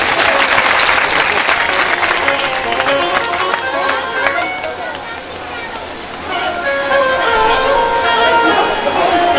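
An audience at a Hindu religious gathering for a Bhagavat katha claps loudly and steadily, a dense wash of applause with some background chatter that eases briefly before swelling again.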